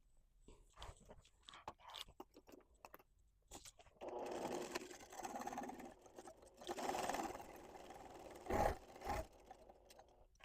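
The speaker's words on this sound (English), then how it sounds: "And so you're just going to sew around at each one of the corners." A sewing machine stitches around the pointed edges of a fabric crown in short, quiet bursts, stopping at each corner to pivot, with soft handling noises between runs.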